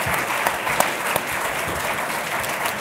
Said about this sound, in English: How about another round of applause for everyone here?